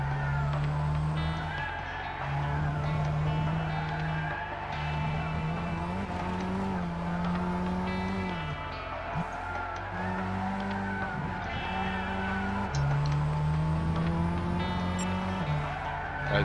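A heavy 1700 kg race car in Gran Turismo 6 revs and shifts repeatedly, its engine note climbing in cycles between gear changes, with tire squeal and skidding as it brakes through corners; no talking.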